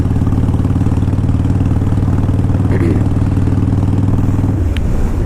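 A 2005 Harley Davidson Wide Glide with ape hanger bars and an S&S carburetor rumbles steadily and loudly at low revs, its deep engine note holding even before easing off near the end.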